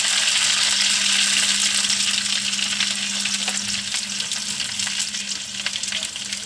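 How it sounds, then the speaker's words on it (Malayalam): Sliced onions and a couple of curry leaves frying in hot oil in a pan for Kerala egg curry, a continuous close sizzle and crackle that eases slightly over time, with scattered sharper pops and no voices. "ഉള്ളി മുറിഞ്ഞ് 2 വേപ്പില ഇടാം."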